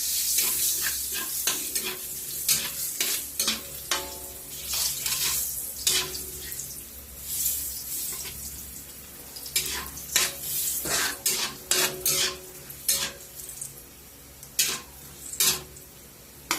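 Garlic frying in a pan with ginger, a quiet sizzle punctuated by frequent sharp scrapes and clinks of a spatula stirring against the pan.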